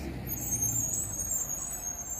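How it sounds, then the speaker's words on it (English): A school bus on a street, its engine rumbling low and steady as it passes, with a faint high hiss that fits air brakes, heard from the roadside with no talking. "Oh, there's a school bus."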